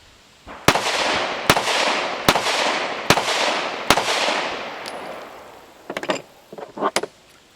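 Five sharp, loud gunshots from a compensated Smith & Wesson concealed carry pistol, evenly spaced under a second apart with short echoing tails, followed by faint clicks and handling noises.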